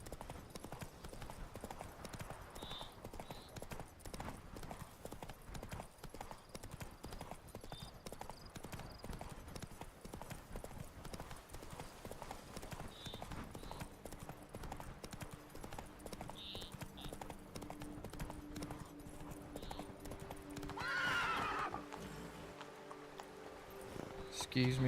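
The horse Roach in The Witcher 3 gallops in a continuous run of rapid hoof clip-clops, with a brief whinny near the end and a voice talking over it.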